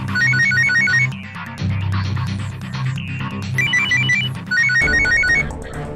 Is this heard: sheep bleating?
no